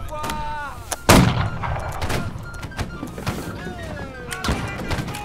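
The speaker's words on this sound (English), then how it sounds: "That cannon was awfully close." Cannon fire rings out in the multiplayer video game Holdfast: Nations at War, with heavy booming blasts, one especially loud and close near the second mark, mixed with other battle noise and occasional voices.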